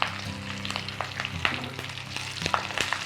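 Cashew nuts frying in hot oil with buttermilk chillies, garlic and curry leaves for masala pori, a steady close sizzle with scattered pops and crackles throughout.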